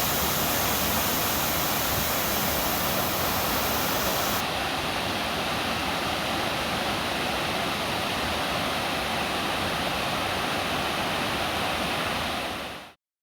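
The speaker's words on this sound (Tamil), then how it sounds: "நீர்பிடிப்பு பகுதிகளில் பெய்த கனமழையால் கும்பக்கரை அருவியில் வெள்ளப்பெருக்கு ஏற்பட்டுள்ளது" Kumbakkarai waterfall in flood after heavy rain in its catchment, a dense, steady roar of rushing water filling the whole clip, loud and close, with no voices.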